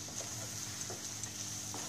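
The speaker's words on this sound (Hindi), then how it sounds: "1 से 2 मिनट हम इस मसाले को पकाएंगे" Masala for lemon pepper chicken cooks in a pan with a faint, steady sizzle, broken by soft, irregular scrapes and taps of stirring.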